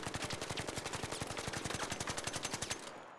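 Rapid automatic fire from the Stitcher gun in the shooter game ARC Raiders, a fast, even stream of sharp shots lasting nearly three seconds, loud and close, then stopping abruptly.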